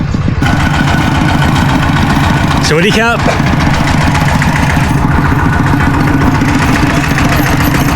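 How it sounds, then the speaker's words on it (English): A strange diesel contraption, half tractor and half buffalo, chugs up a road with a steady low engine drone throughout, while someone speaks briefly over it. "There's a strange diesel contraption coming up the road, accompanied by a few dogs."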